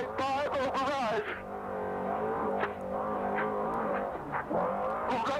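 Class 1 off-road race truck engine revving hard during a desert race qualifier, its harmonic roar rising and falling with gear changes, loud and close from inside the cab, with faint voices over the comms.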